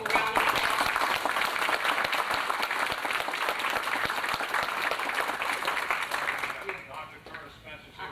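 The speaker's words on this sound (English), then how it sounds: "Let's give them a round of applause." Audience applause fills a ceremony opening a workforce development center as Mayor Joe Spencer and George Wallace stand, steady broadband clapping for about seven seconds with some voices mixed in, then thinning and fading near the end.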